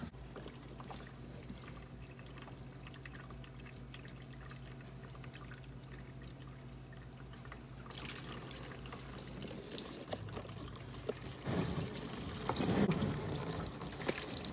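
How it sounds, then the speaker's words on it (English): Engine oil pours out of a pan after the drain plug is pulled. A quiet low hum gives way midway to a growing, splashing liquid stream. "Now let me show you what happens when you pull out oil drain plug."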